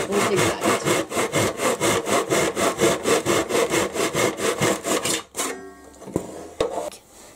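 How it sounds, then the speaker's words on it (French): A miter saw with a fine-toothed blade cuts wooden picture-frame moulding in a framing workshop, making a loud, fast, rhythmic rasping stroke pattern for about five seconds before stopping, followed by a few clacks and handling noises. "Pour couper les baguettes, on utilise soit une scie à onglet basique"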